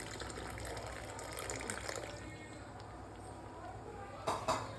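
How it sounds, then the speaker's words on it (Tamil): Tamarind water pours into a pot of boiling radish sambar, a soft steady liquid wash with light clinks and a couple of sharper splashes near the end, faint and close with low background noise. "இப்போ நம்ம புளி தண்ணி சேர்த்துக்குவோம்."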